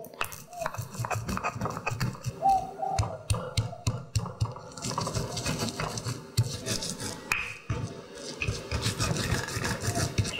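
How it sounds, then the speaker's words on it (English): White peppercorns and coriander seeds being ground, giving a steady run of rough, rhythmic scraping strokes close by, with short pauses and a few brief louder bursts of friction. "a 1/4 teaspoon of white peppercorn and 1 teaspoon of coriander seed. Grind it."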